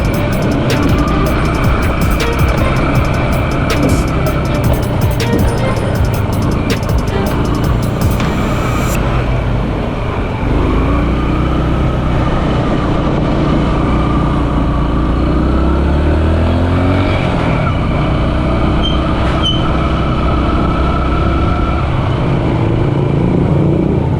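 A street vehicle ride through Iquitos: a steady, loud mid-pitched engine drone with road and traffic noise throughout, close and continuous, with no talking.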